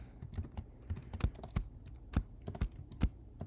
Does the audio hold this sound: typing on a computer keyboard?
yes